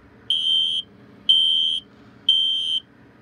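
A smoke alarm under test sounds three loud, piercing electronic beeps, each about half a second long and evenly spaced, alone in a quiet room.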